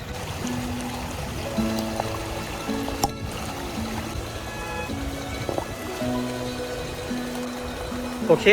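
A forest mountain stream rushes and trickles as a steady broadband wash, with a voice or tonal sounds running over it throughout at moderate level.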